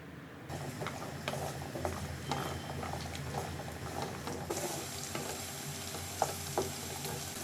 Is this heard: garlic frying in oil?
yes